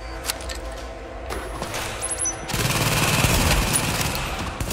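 Gunfire in The Division video game snaps out in a burst of sharp shots that swell into a heavier, continuous barrage near the end, loud and close with no talk over it.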